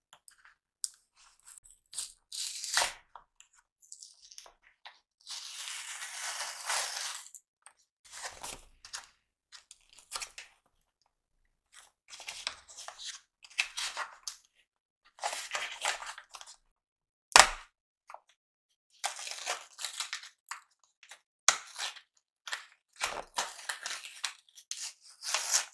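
Bursts of crinkling and tearing as the plastic wrap and cardboard of a Love Letter board game package are handled and pulled open, in irregular spurts separated by quiet pauses.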